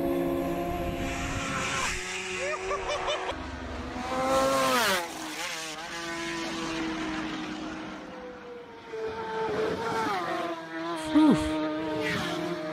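High-revving racing motorcycles at the Isle of Man TT road race scream past on public roads, their engine notes rising and falling in several quick, loud passes.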